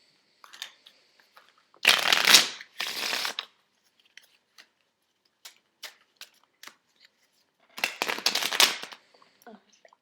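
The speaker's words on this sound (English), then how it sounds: "you shuffle my deck, and I'll shuffle your deck just to make sure neither of us are cheating" A deck of playing cards riffle-shuffled twice in close succession, crisp loud bursts of flicking cards, followed by scattered small taps and clicks, then another riffle shuffle near the end; no talking.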